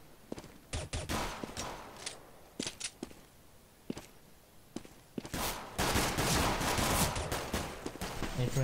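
Rapid cracks of automatic sniper rifle fire in Counter-Strike: Global Offensive competitive play, some single and some in short bursts, with dense overlapping gunfire and game noise building near the end.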